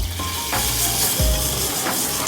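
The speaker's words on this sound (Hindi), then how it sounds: "अब हम शुगर मिक्स करेंगे" Sugar stirred into two litres of boiled milk for sheer khurma, a steady sizzling, scraping stir in a pot, close and continuous with no talk.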